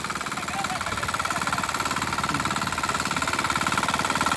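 Tractor engine running steadily in a flooded paddy field during rice transplanting, a loud continuous mid-pitched chugging throughout with people talking over it.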